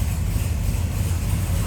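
A 1971 Chevrolet Monte Carlo SS 454 V8 with a replaced exhaust idles close by, giving a steady, loud low rumble with no break and no talking.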